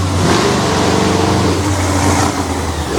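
A big black and green Ford monster truck from Maryland roars off the starting line at Winchester, its engine loud, close and continuously revving throughout with no voices heard.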